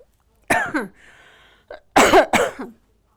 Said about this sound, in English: I got a cough. Sorry.